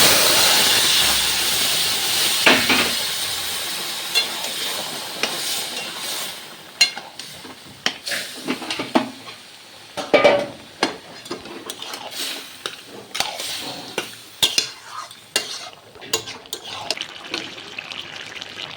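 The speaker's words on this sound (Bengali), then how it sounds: "এবার লাউটা ফোড়ন দিয়ে দিচ্ছি" Bottle gourd pieces hit hot oil with a cumin tempering, setting off a loud hiss at first that breaks into uneven crackling and sizzling pops as they settle in the pan.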